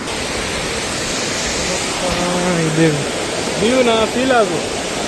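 Heavy river water rushes past a bridge near the Kottiyoor temple in Kerala, a steady broadband roar filling the whole stretch, with voices briefly speaking over it midway.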